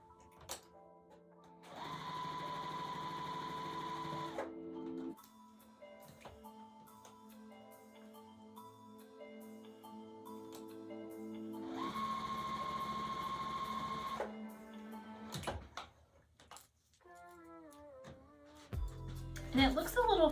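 A sewing machine stitches a quilt block along marked lines, running in two loud sustained bursts of steady whirring with a pause between, while a person talks throughout.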